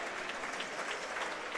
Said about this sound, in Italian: E ci sono anche gli applausi, lo sottolineiamo, del pubblico di Forte dei Marmi